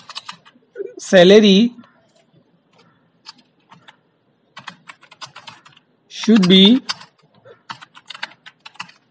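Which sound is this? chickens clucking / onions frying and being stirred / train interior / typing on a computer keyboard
typing on a computer keyboard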